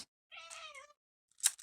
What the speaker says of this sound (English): Got kitties meowing.